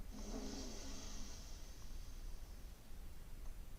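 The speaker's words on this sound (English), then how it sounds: "We'll take our right thumb, close the right nostril, inhale through the left." A slow, audible inhale through the left nostril during a chair yoga breathing exercise, a soft nasal airy rush near the start that fades into quiet breathy hiss, close and faint.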